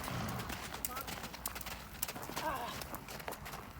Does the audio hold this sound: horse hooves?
yes